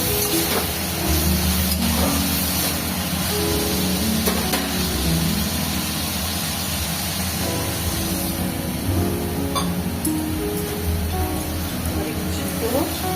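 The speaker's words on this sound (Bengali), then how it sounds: "ঢাকনাটা তুলে টমেটো কুচিতে দিয়ে দিলাম। নাড়াচাড়া করবো, নাড়াচাড়া করে সামান্য একটু জল দিয়ে দেব।" Chopped tomatoes are stirred in a hot sizzling pan while making semolina upma, a continuous frying hiss with intermittent scraping clatter throughout, under a person's steady narration.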